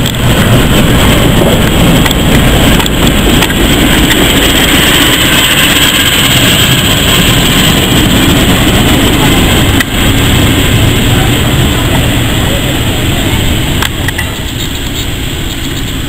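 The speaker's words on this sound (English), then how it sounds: "I think it's shunting the carriages to the other platform." A steam gala train at a heritage railway station shunts its carriages across to the other platform, giving a loud, continuous rumble of rolling wheels and engine that holds close for the whole stretch with only faint background voices.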